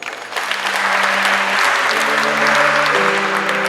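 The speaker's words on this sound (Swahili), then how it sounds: "Naombeni tupigeni Mungu makofi." Wedding guests break into loud, sustained applause, a dense wall of clapping with a held musical tone rising underneath as it continues.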